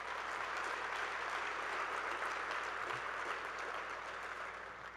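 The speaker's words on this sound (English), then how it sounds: "Let's give them a round of applause." An audience at a college-wide staff day applauds in a steady, fairly distant wash of clapping that holds for five seconds and fades slightly at the end.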